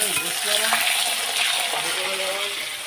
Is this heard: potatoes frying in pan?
yes